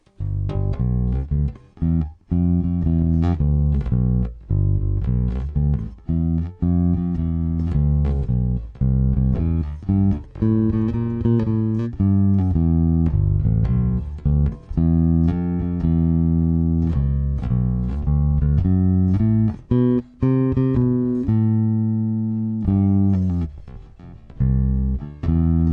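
Bass guitar played in a short, detached staccato style, a steady run of clipped low notes with brief gaps between them, close and loud, with no voice over it.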